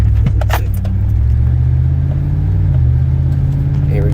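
A 2011 Chevrolet Suburban with a 5.3L V8 and a newly installed 6L80 transmission pulls away from a stop, its engine a steady loud low rumble heard from inside the cabin, with a few faint jingles of keys.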